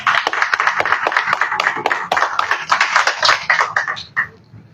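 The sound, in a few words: congregation clapping hands at a church service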